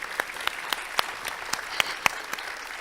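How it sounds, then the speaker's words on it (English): Sparse, scattered hand claps from a small audience at the closing of a developer conference, roughly ten distinct claps in an uneven rhythm, moderately quiet and heard alone. "So let's give Sam a great round of applause as well."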